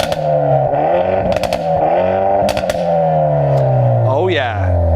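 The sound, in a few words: Hyundai i30 N engine starting and revving, raucous exhaust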